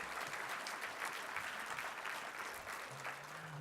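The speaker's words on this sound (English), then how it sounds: "Now let's give our educational leaders a big thank you, Clovis Crush round of applause" Sustained audience applause at a community college president's breakfast, many hands clapping steadily and evenly, moderately loud and unbroken throughout.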